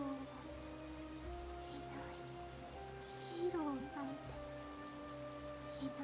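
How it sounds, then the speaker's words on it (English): Soft steady rain patters in the background while tonal music or drawn-out melodic sounds drift over it. "Rain starts to pour down from the sky."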